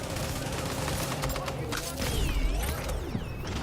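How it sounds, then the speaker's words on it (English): Gunfire in a shooter video game, a few sharp shots aimed at an enemy's backpack, with mechanical clicks and ringing whooshes over a constant busy game background. "Notice how it took only 2 shots then to kill his backpack?"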